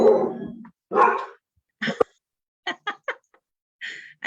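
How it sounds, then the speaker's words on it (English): Dog barking in a home during an online community meeting, a few sharp barks and yips in short bursts, fairly close and loud, with no talk over it. "I think maybe your dog had something to say."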